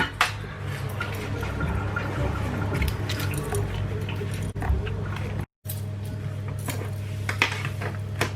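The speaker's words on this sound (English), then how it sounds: "So now you can get rid of all the water that you boiled the potato in." Hot water from boiled potatoes pours off in a home kitchen, a steady liquid splash with metal pot clinks and drips, one brief dropout partway through.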